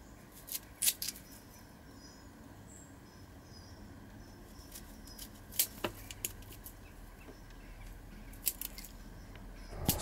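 Scissors snip through dahlia tubers in a few sharp, quiet clicks spread irregularly over a low background hiss.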